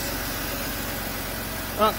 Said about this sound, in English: just a little rattle from the top here, which I believe is Vanos